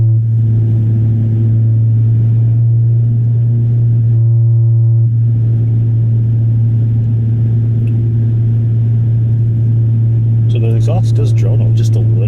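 A Honda Civic Si Coupe's exhaust drones on the road as a steady, loud low hum that holds through the whole drive, with road rumble and brief higher tones over it and voices in the cabin at times.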